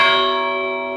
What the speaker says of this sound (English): I don't know if you can see the bell just ringing.